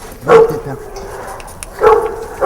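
Hunting hounds at a French hunt kennel bark in two loud bursts, one near the start and another near the end, with quieter yips and background noise between them.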